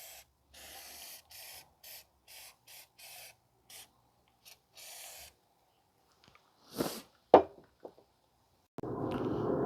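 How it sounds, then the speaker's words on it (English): Short bursts of aerosol spray hiss in a quick series onto a 2010 Toyota Camry rear wheel hub, followed by a few louder knocks and a longer steady spray at the end. "spray some on the hub before I install the new rotor"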